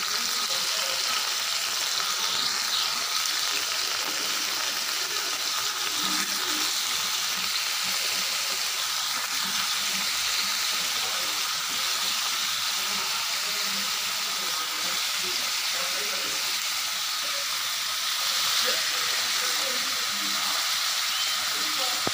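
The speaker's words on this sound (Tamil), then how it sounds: "இப்போ ஆயில் ஆட் பண்ணிக்கலாம். நம்ம கத்திரிக்காய் ஆட் பண்ணிக்கலாம்." Eggplant pieces fry in hot oil in a kadai on a gas stove, giving a steady, dense sizzle that hisses without a break from start to end, fairly close and even in level.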